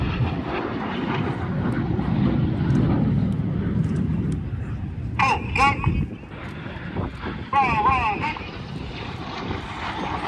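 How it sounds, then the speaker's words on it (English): A Red Arrows jet roars overhead during an aileron roll at Airshow Atlantic, a broad, steady engine rush, with a commentator talking over the public address system. "Each aircraft will conduct a 360-degree aileron roll."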